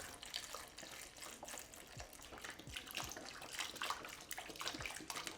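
Chicken stock pours and splashes into a pot of potatoes at close range, a gurgling stream with small sloshes and drips, fairly quiet.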